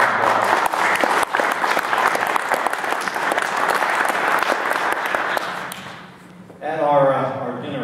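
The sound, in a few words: round of applause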